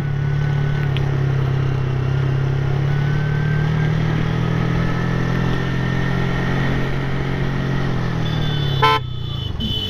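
Small 100cc motorcycles labour up a hill road between Sajek Valley and Kaptai, a steady droning engine hum held close, with a brief horn toot near the end.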